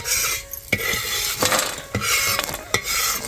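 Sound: roasted chillies and coriander taken out of pan

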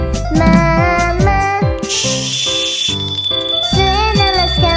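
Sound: bells ringing

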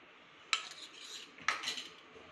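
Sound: spoons adding sugar and Boost to a bowl

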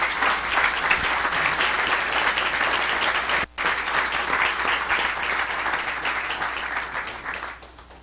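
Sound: audience applause for the panelists

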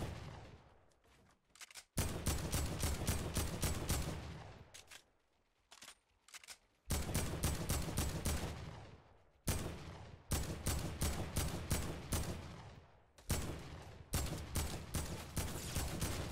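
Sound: gunfire in the video game Fortnite

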